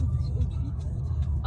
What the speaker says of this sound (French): C'est la première fois que je suis en voiture ici.